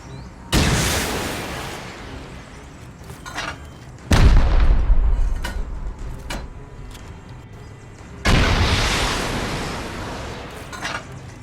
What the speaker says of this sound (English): I started shooting rockets at the raid base, hoping that I could damage it enough